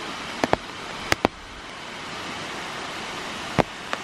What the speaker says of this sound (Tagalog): Maliit na falls.